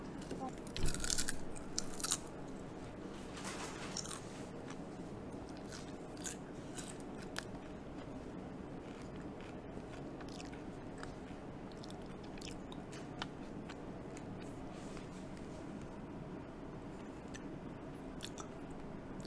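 Rainbow potato chips are bitten and chewed close up, with crisp crunches near the start followed by steady, quieter mouth chewing and scattered small snaps.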